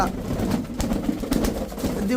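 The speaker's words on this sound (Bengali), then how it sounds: "শ্যাডেল লাহোরি একটা মাদি কবুতর" A female Shadel Lahori pigeon cooing, soft low throaty coos repeating close by amid voices talking.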